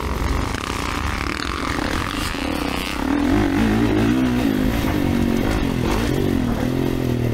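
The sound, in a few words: Kawasaki KX450 motocross bike riding on dirt track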